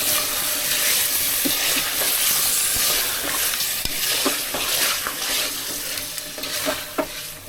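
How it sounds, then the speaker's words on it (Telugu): Washed chicken pieces stirred into a hot pan with turmeric for a semi-gravy chicken curry, a continuous close sizzle with scattered scraping knocks of the spoon. "ఈ చికెన్ వేసేసుకుందాం. వేసుకొని బాగా కలుపుకోవాలండి."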